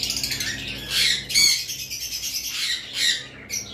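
Violet mask lovebirds at a bird sale make harsh squawks and quick chirps. The calls overlap in a busy, fairly close chorus over a low background hum.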